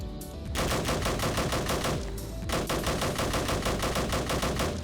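Rapid automatic gunfire from a gun in the Roblox game Military Tycoon, a loud continuous burst of evenly spaced shots with a brief pause near the start and another around two seconds in, then firing resumes steadily.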